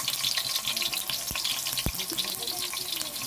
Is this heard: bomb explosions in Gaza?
no